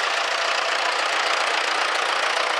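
A three-cylinder diesel tractor engine runs steadily and loudly close by, with a dense, even roar that does not change across the moment.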